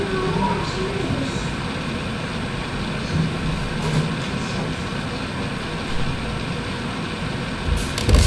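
A constant broadband whirring hiss with a low rumble runs steadily throughout at a moderate level, with no clear breaks or voices.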